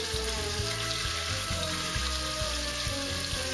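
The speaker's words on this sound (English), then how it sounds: "now in the same fat and olive oil, you're going to go and put in your beef." Beef browning in rendered fat and olive oil in a pan for boeuf bourguignon, a loud, steady, close sizzle with no talking.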